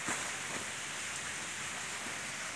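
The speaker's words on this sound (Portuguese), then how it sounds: "Já estou escutando o barulho da cachoeira que tem lá dentro" A waterfall inside a cave near Ilicínea, southern Minas Gerais, gives a steady, full hiss of falling water that fills the space without a break.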